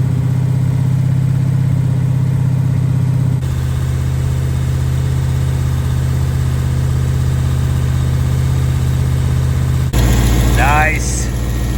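A Mopar 440 six-barrel V8 runs steadily at a fast idle during cam break-in, a loud constant rumble close by, with a voice speaking over it and a brief shift in pitch near the end.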